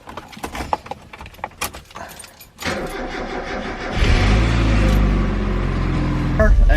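A Mazda Miata on a jump start cranks and fires up, preceded by keys jangling and clicks, then settles into a loud, close idle that rises to a steady running note.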